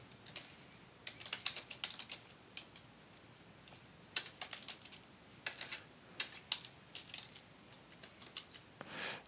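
A message being typed on a computer keyboard, quiet close keystrokes coming in quick uneven bursts separated by short pauses, with no voices.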